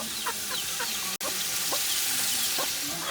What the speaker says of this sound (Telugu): చూసారా కోళ్ళు కూడా చికెన్ కోసం వచ్చేస్తున్నాయి